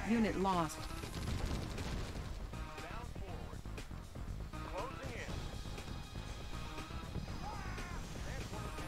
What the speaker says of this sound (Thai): เวลามันยิงนานๆมันก็จะแรงขึ้นแรงขึ้นนะครับ เป็นปืนที่โหดพอสมควร